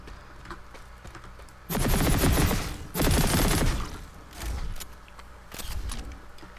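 An H-V45 assault rifle firing in the game Planetside 2, two loud sustained bursts of rapid automatic fire followed by two shorter, quieter bursts, up close with no talk.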